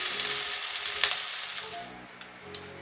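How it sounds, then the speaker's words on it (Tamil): Capsicum sautéing in hot oil in a pan for a capsicum chicken masala gives a steady close sizzle with a few light clicks and scrapes, fading slightly toward the end. "கேப்சிகம் ஓரளவுக்கு வதங்கிடுச்சு."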